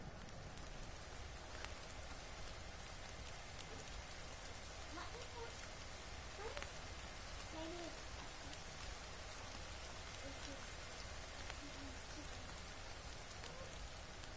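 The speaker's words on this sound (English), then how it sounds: "It's raining." Steady rain falls throughout, a dense even patter with scattered close drops and a faint bird call now and then.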